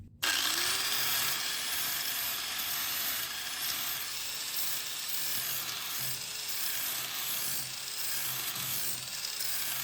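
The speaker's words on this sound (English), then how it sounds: "I should probably still be using a flap disc, but go down to maybe a 120 grit" Flap disc on an angle grinder sanding the corner of a custom wooden bed, a loud continuous abrasive whine and scrape that runs steadily, close up, with no talking.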